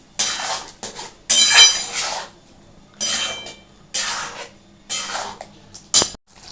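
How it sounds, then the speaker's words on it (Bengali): A spatula works a prawn curry mixture with potato and pointed gourd in a pan, five or six separate bursts of scraping and sizzling stirs with short pauses between, close and without talk. "এটাকে একটু ভালো করে কষবো।"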